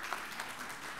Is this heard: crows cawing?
no